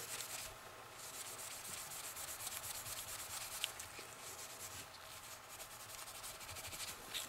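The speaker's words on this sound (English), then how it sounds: "Now I'll just be wiping down the knife." A knife is wiped down with an oil-impregnated care rag, giving a steady, soft, continuous rubbing hiss of cloth on the blade, close but quiet, with no talking.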